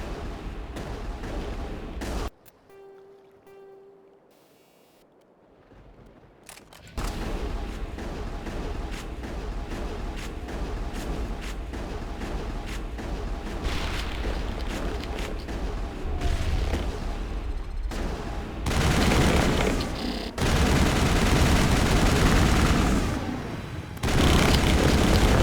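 Gunfire from a Mass Effect battle against the Geth: dense, continuous crossfire with booming shots and blasts, loud and sustained, with a brief quieter lull near the start.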